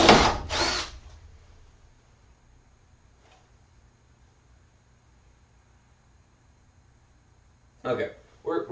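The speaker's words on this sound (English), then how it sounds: "I have the drill bit curling through the plate." A drill bit cuts through a metal plate during fabrication work, with two loud, harsh grinding bursts at the start, a long near-silent stretch, then short renewed bursts of drilling at the end.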